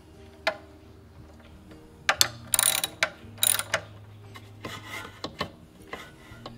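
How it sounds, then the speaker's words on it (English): A reel lawn mower's front roller height adjustment is lowered by hand, giving a series of sharp ratcheting clicks, metallic rasps and scrapes in irregular bursts, close and fairly loud. "So now I'll lower the front roller until the board becomes tight."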